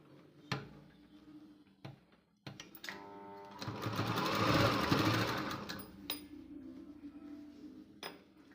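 A sewing machine stitches a neck strip onto a blouse with a short whirring run of stitching in the middle, set between scattered clicks and handling taps, close and moderately quiet.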